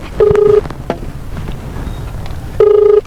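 A telephone rings in two loud electronic bursts, one near the start and one near the end, with quiet room sound between them.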